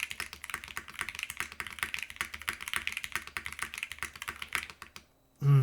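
Rapid, steady typing on a Ducky One X Mini mechanical keyboard with foam dampening, crisp clacky keystrokes close up, stopping abruptly near the end before a brief low thump.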